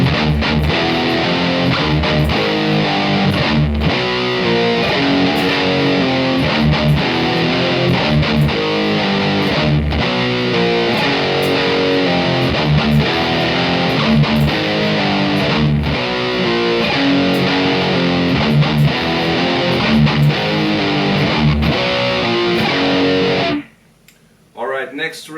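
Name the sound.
metal guitar break, slowly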